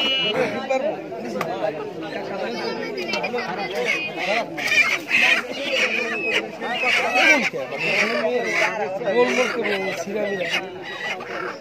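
Chickens cluck at a busy village market while people chat loudly nearby, the bird sounds mixed into a constant crowd of voices.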